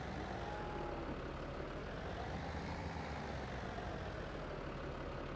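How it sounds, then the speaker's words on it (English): A tractor engine in Farming Simulator 17 drones steadily at low volume, a constant heavy rumble with no clear rise in pitch or distinct revving. "Unfortunately, this tractor doesn't seem to have a smooth acceleration."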